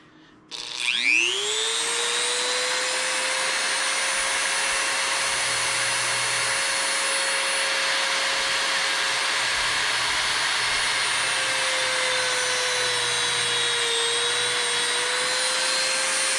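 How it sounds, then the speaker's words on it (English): A Dremel rotary tool trims a plastic peg for an Evel Knievel stunt cycle launcher repair, spinning up within a second into a loud, steady high-pitched whine that holds for about fifteen seconds with a slight dip in pitch near the end. "I'm going to trim this to size with the Dremel."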